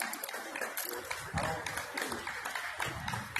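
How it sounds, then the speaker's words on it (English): A crowd at a street protest claps and cheers in a steady, busy patter, heard at moderate distance with voices mixed in throughout. "And they're clapping."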